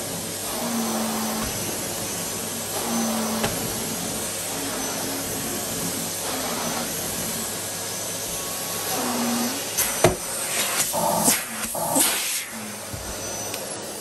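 Two Numatic Henry vacuum cleaners, an HVR200 and a Henry Plus HVR200P, run on carpet with a steady loud whooshing drone and a whining motor tone, plus some rattling, sketchy noises and a few sharp knocks near the end.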